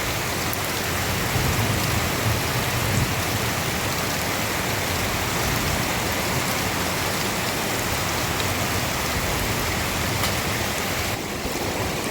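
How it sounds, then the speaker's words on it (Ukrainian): Heavy rain pours steadily in Berezan, Kyiv region, a dense continuous hiss of drops drumming on surfaces, loud and unbroken for the whole stretch with no voices over it. "посилюється знову дощ"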